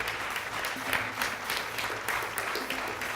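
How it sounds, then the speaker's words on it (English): An audience applauds at a junior insurance-awareness quiz grand finale, a steady dense wash of many hands clapping in a large hall. "Give them a round of applause."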